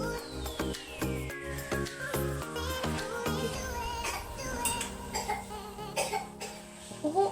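A child coughing in a home kitchen while pasta is being made, a run of sharp coughs with tonal background music playing throughout.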